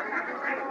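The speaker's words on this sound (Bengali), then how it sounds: "চারিদিকে হাঁস আর হাঁস।" Ducks quacking at a crowded duck market, a short burst of loud, close, nasal quacks overlapping one another with no clear speech.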